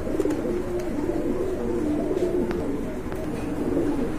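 A flock of pigeons coos continuously in soft, overlapping warbling rolls, close and steady throughout.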